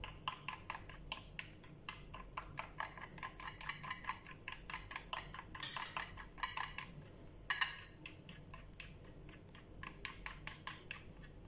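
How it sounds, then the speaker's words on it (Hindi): Spoon or fork clinks and scrapes against a bowl while hair mask ingredients are stirred together, a steady run of quick light metallic ticks at close range with no talking. "आप चाहें तो इसको स्पून से मिक्स कर लें, अगर चाहें तो फोक से मिक्स कर लें"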